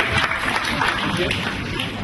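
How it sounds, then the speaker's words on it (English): A crowd applauds, a dense wash of clapping filling the space throughout, fairly loud and continuous. "So a round of applause, please, for David."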